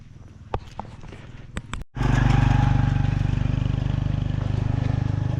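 A motorbike ridden by a local boy near a Sapa viewpoint starts loud and close after a few faint clicks and knocks, then keeps up a steady, rough engine drone for several seconds.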